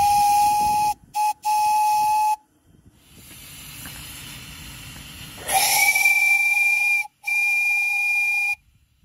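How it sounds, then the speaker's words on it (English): Two new steam whistles sound on a boiler during a steam test, each giving loud sustained blasts, with a hiss of steam in the gap between them and short breaks within each whistle. "I tried out both my new whistles."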